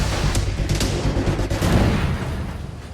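Explosions and gunfire-like booms from the video game Assassin's Creed Rogue, set in New York, play as loud, dense, continuous rumbling with repeated sharp blasts and no talking.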